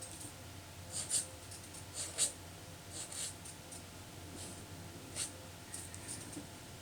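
Pen drawing looped strokes on a paper card for doodled daisy flowers, heard as faint, quiet scratchy strokes in short bursts against a soft hum, with no talking.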